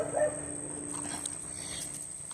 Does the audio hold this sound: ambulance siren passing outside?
no